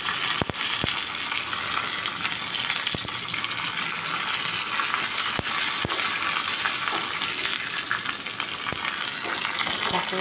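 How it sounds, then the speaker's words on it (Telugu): Spices and curry leaves sizzle and crackle steadily in hot oil for tempering, a dense continuous frying hiss with occasional sharper pops, close and fairly loud. "పోపు వేగుతుంది"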